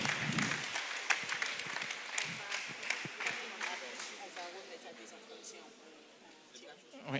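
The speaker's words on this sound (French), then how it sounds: "Vos applaudissements, s'il vous plaît." A crowd at a reception for new baccalaureate graduates in a sports hall claps in scattered, fairly faint applause that fades over several seconds, with voices talking and murmuring in the crowd.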